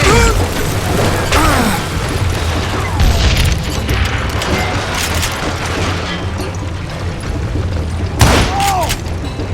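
Gunfire and heavy booms in a Western shooter video game, Call of Juarez: Gunslinger, loud and dense with repeated sharp blasts over a constant rumbling game soundscape.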